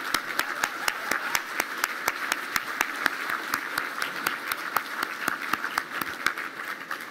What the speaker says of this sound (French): Je pense que ça vaut la peine qu'on applaudisse juste ça très fort.